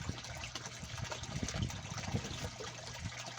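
Water from a newly assembled koi pond waterfall filter splashes and trickles steadily outdoors, a continuous close wash with no voices.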